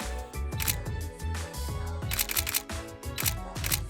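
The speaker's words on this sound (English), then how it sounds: "camera shutter, and so on." Camera shutter sound effect from a Filmora library: a series of crisp, sharp clicks repeating at an uneven pace over soft background music, close and fairly quiet.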